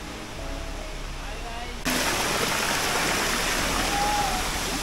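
Chakratirtha waterfall in Keonjhar, Odisha pours with a steady broadband rush that jumps louder partway through, a continuous near roar of falling water.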